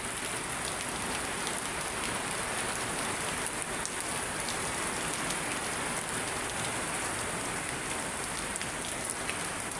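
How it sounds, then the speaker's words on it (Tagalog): Heavy rain pours continuously at Manila Bay, a dense, steady hiss of drops drumming on surfaces with no pauses or voices. "malakas ang ulan."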